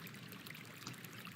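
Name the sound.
water trickling ambience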